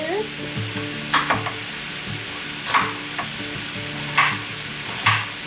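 About two pounds of ground beef browning in a pan, sizzling steadily while a spoon scrapes and stirs in several distinct strokes spaced about a second apart.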